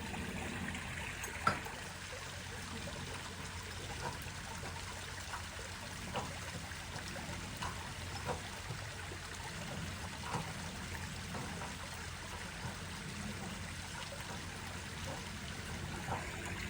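Water trickles steadily and faintly as it begins collecting behind a newly plated check dam on a farm, a continuous soft wash with a few small splashes and no voices.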